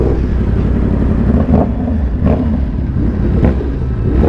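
A sport motorcycle engine drones steadily under held throttle, a loud close rumble with slight surges in revs and no talk.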